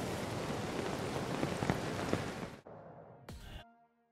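Steady rain in a Honkai: Star Rail cutscene, a dense broadband patter for about two and a half seconds, then cutting off into near silence with a brief whoosh and a faint tonal hum.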